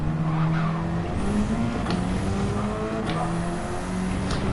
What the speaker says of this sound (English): I went deep on the brakes there.